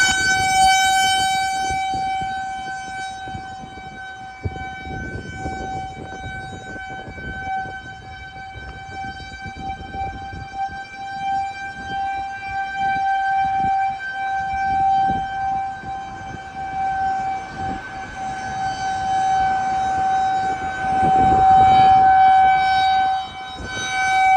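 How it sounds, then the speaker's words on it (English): A loud county-wide outdoor warning siren test wails continuously with a steady held tone, swelling slightly louder toward the end, with faint background rumble. "they were doing a county-wide sirens test that day"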